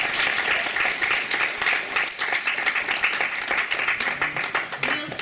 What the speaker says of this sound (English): Can we please give Neil a big massive round of applause?